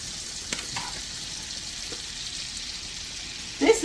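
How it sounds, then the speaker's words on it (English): Sausage and shrimp frying in a pan give a soft, steady sizzle at low volume, dotted with a few faint clicks, before a brief louder burst of sound near the end. "So we're just going to fry these up."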